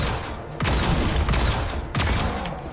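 Semi-automatic gunfire in the video game Zombotron: three sharp, loud shots spaced unevenly, each with a short decaying tail over a busy game background.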